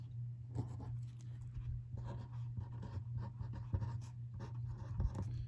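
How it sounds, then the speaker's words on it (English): Pencil or pen scratches across paper in repeated soft, brushing strokes while circles are drawn for a geometric construction, faint and close with a steady low hum underneath. "we're going to draw 2 circles"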